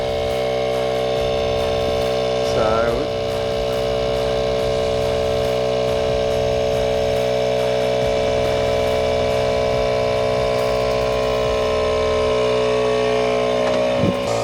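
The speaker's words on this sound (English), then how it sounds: "you can hear the compressor going" A steady mechanical drone with a constant hum runs throughout, loud and unbroken, from an air compressor raising a pop-up roof on a Toyota Land Cruiser Troop Carrier.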